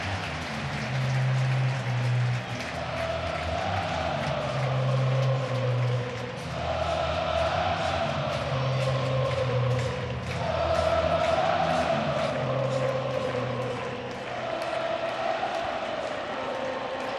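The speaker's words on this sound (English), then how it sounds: "You really can't say enough about the crowd here. They are on every pitch." A stadium crowd roars without a break at a Mets NLDS playoff baseball game, forming a dense, far-off wash of cheering and noise with swelling waves, and a commentator talks over it.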